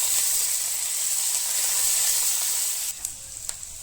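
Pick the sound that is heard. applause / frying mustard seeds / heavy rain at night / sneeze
frying mustard seeds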